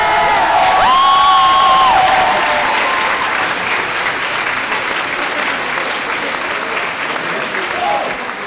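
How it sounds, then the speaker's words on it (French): An audience applauds loudly and continuously, with cheering, whoops and a few raised voices over the clapping, which stays dense before easing slightly near the end. "S'il vous plaît, applaudissez-le."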